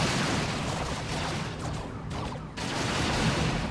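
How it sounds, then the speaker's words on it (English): A tank buster barrage in Warhammer 40K Dawn of War II pounds the battlefield as a dense, continuous rattle of gunfire and blasts, loud and unbroken with brief dips in intensity. "Tank buster barrage coming in."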